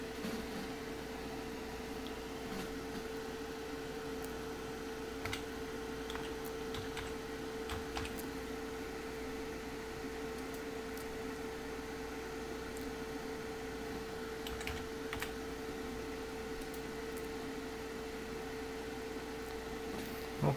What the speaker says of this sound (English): So I'm going to type in the password.